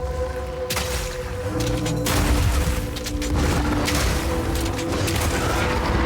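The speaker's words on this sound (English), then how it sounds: "I think we're getting a little bit more consistent explosions now because the frag rounds are piercing through enemies" Frag round explosions in the video game Path of Exile 2 with a run-and-gun mercenary build, rapid bursts of booms and gunfire-like cracks in quick succession over a low game ambience.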